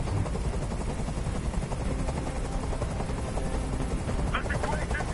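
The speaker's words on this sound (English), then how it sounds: "Tell that helicopter to get out of here." Helicopter hovering overhead in Detroit: Become Human, a steady dense rotor rumble that runs through the whole stretch, with speech and brief sharp bursts near the end.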